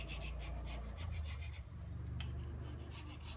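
A metal scraper rasps repeatedly across soft residue on a Cub Cadet Model 149 garden tractor during a refurbish, giving close, steady scraping strokes in a quick rhythm.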